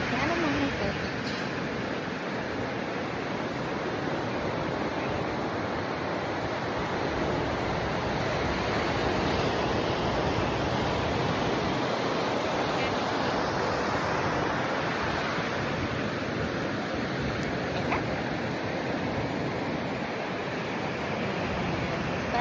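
Ocean waves roll onto Santa Monica Beach on a sunny day, a steady, unbroken roar of surf with wind buffeting the microphone and voices faintly in the background.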